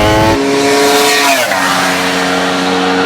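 A racing video game car's engine revs loud and steady, with a sliding drop in engine pitch midway as it shifts or eases off and a hint of tire squeal, continuous throughout with no talk.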